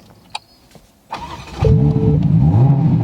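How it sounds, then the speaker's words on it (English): A few clicks and a starter whir, then a Ferrari Roma engine fires up with a sharp rev and settles into a loud, steady rumbling idle close by. "Let's start her up again."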